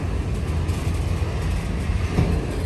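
A CSX freight train rolls past close by with a loud, steady low rumble and faint wheel clatter that continues through the whole stretch, and no voices are heard.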